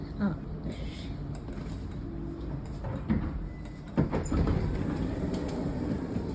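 A metro train's low rumble fills a station in Rotterdam, with a few sharp clunks and rattles as carriages move, and faint voices murmuring under the noise.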